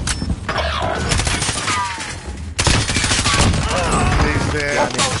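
Video game gunfire from a 30-round gun fills the clip in loud, dense bursts, with a short break near the middle and further heavy firing, shots and impacts crowding together.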